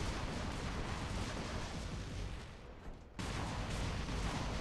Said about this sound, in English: The sound of these weapons, I kind of like that.